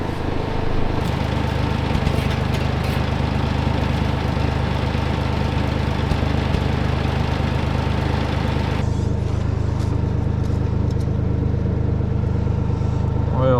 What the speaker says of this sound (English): hop in the big John Deere here and hope this thing starts right up. Let it warm up for a bit.